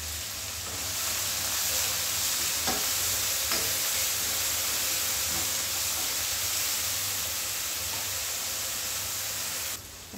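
Spinach with asafoetida frying and being stirred in a pan for a dhaba-style lasooni palak, a steady close sizzle and hiss with occasional soft scrapes, no voices.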